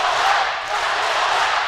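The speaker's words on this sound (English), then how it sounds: "And the crowd's getting into it now." Crowd at a varsity boys basketball substate final fills the gym with steady, loud cheering and roar, continuous and dense throughout with no pauses.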